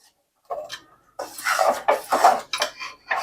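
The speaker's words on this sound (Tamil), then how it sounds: "கொஞ்சம் மசிய வரைக்கும் கொஞ்சம் கிளறி கொடுக்கணுங்க." Bread soaked in milk is stirred and mashed in a pan for Madurai bun bread halwa, giving close, repeated scraping and clinking of a utensil against the pan in short bursts after a brief quiet start.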